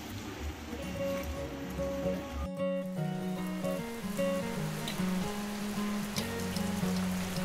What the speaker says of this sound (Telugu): మేము వెళ్ళే టైంలోనే అక్కడ ఫుల్గా రెయిన్ అయితే స్టార్ట్ అయిందండి.